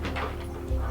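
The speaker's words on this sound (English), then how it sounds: "Sorry for the noise, the dogs are playing around my feet." Dogs play close by, giving short yips and whimpery bow-wow sounds in quick bursts over a low background hum.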